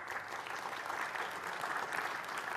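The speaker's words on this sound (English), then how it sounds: "Yeah, that was a cheap applause line, I know" An audience applauds steadily after a talk on city planning and leadership, an even wash of clapping from many hands, held at moderate loudness throughout.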